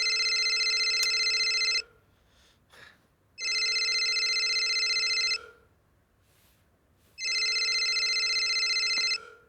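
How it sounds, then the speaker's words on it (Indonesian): A mobile phone rings in three long, loud electronic bursts with short silent gaps between them, clear and close with no talking over it. "Handphone bunyi mulu, angkat kenapa sih, Es?"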